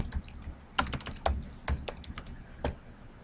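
Quick irregular clicks from keys tapped on a computer keyboard while entering a field name in Microsoft Word, soft and close with small bursts and gaps.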